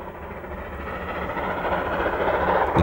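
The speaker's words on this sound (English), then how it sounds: "The sound from the exhaust muffles when the driver notches up." Steam locomotive running on the line as the driver notches up, its exhaust muffling into a steady, fairly loud rumble of rolling train noise that builds slightly over the few seconds with no talk.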